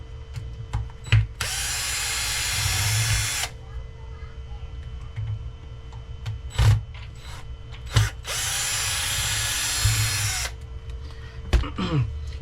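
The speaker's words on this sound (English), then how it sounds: "Take our 4 diff cover screws off." A power drill spins out the four differential cover screws on an Arrma Limitless V2 RC car, with two long whirring runs and several short bursts close to the mic over a steady background hum.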